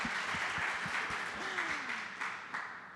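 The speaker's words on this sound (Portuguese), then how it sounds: "Aplaude a Bela." Light audience applause at a podcast-future panel, a thin spread of claps running steadily and fading slightly toward the end, with a faint tone gliding underneath.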